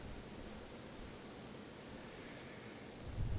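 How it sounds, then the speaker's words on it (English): Wind blowing outdoors, a steady broadband rush that holds at an even level throughout and swells slightly near the end, with no voices. "I don't know if you can hear that wind."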